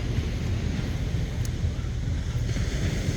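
Sea waves wash onto a beach at Liwliwa, Zambales, a low rumbling surge with wind buffeting the microphone, steady and fairly close, with no talk.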